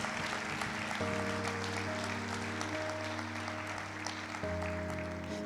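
A church congregation at a Sunday worship service claps steadily, a dense wash of applause with sustained organ or keyboard chords underneath.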